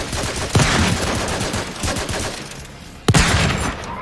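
Video game gunfire with zombie enemies: a rapid rattle of shots runs through the clip, with two sharper bursts standing out, heard fairly close.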